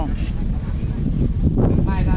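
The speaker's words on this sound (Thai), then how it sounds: "อยู่ด้านบนนี่ลมนะคะแดดร้อนอยู่แต่ว่าลม ลม เย็นมากนะคะ" Wind gusts buffet the microphone outdoors on a sunny rooftop at Wat Sekkharam, a steady rough rumble under a voice speaking throughout.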